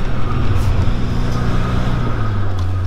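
A Peugeot 205 GTI 1.9 drives through traffic with a loud, close engine drone and road noise, its rear end sliding out, the tone holding steady and then rising slightly near the end.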